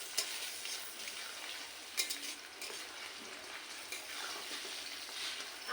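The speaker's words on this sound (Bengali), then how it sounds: "এখন আমি মাংস দিয়ে দেবো।" Mutton pieces sizzle in a pan over fried onions, a steady close hiss broken by soft scrapes of stirring, with no voices.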